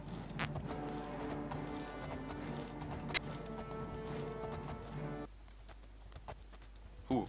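Rhythmic horse hooves clip-clopping at a gallop in the video game The Elder Scrolls IV: Oblivion, a quick, steady patter over a low game backdrop that drops away near the end.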